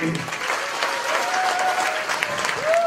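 An audience at a campaign office opening event applauds the candidates, steady crowd clapping at moderate volume with a faint tonal whine running beneath it.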